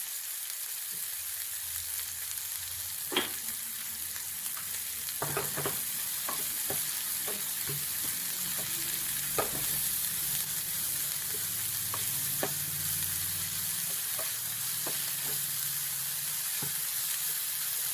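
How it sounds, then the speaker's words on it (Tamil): Onions sautéing in a pan with a little salt produce a steady close sizzle, broken by occasional scraping and clicking stirs of a spoon against the pan over a long stretch, with no voices. "வெங்காயம் கொஞ்சம் நல்லாவே வதங்கிட்டு, வெங்காயம் கொஞ்சம் நல்லா கலர் வந்துச்சு."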